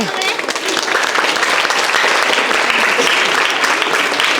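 An audience at a Kannada film event claps loudly and continuously, a thick, close wall of hand claps that barely varies in level from start to finish.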